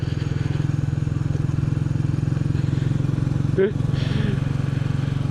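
A Royal Enfield Bullet 350 motorcycle engine thumps steadily while being ridden, a close, constant low drone with one brief disturbance partway through.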